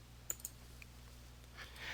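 Two quick, faint mouse clicks at a computer in Microsoft Outlook settings, close together near the start, then quiet low hum with no talk.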